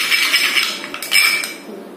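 Curd and honey being stirred into a paste in a bowl, with steady soft scraping and light clinks of a utensil against the dish, close and continuous with no talking.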